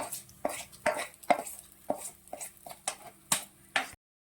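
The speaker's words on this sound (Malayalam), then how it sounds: "ഇതെല്ലാം കൂടി നമ്മൾ നമ്മുടെ ഈ എടുത്ത കൂട്ടുകറിയിലോട്ട് ചേർത്ത് കൊടുക്കുവാണ്" Koottu curry made with ash gourd, cowpeas and tapioca gets fresh ingredients added and stirred in a pot, a spoon knocking and scraping against the metal in a steady run of soft clacks.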